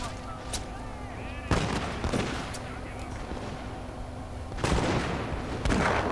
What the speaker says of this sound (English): here you can see my matchlock Ashigaru's firing